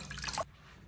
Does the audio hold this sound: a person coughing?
no